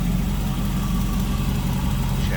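A Chevy 350 V8 with an Edelbrock carb and HEI ignition idles steadily in a 1930 Ford Model A Roadster, a loud, even low rumble held close throughout with no pauses.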